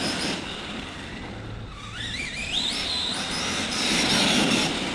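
An Arrma Gorgon RC truck drives outdoors: a steady rushing drive noise with a motor whine that climbs and wavers in pitch as the truck speeds up, staying close and fairly loud.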